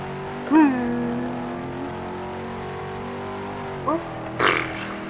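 A car drives fast in the Roblox video game, its synthetic engine note whining and sweeping upward, then settling into a steady hum with short sharp bursts near the end.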